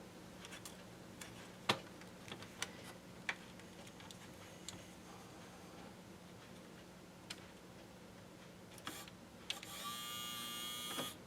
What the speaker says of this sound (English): Let's see if we're getting any power to the motor.